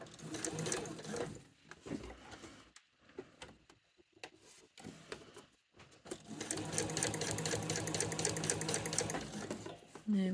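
Sewing machine stitching piping around the corner of a cushion cover, running in bursts with short pauses, then a long steady stretch of fast needle chatter close by, with a voice talking over parts of it.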